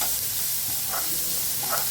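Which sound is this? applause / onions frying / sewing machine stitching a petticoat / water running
onions frying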